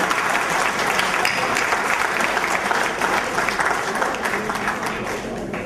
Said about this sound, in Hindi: चाहूंगा जितनी तालियां आप बजा सकते हैं जोरदार स्वागत है, उतनी बजाएं